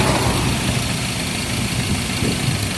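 A 2013 Mazda BT-50 diesel pickup engine idles steadily and quietly, a low even rumble with no talking.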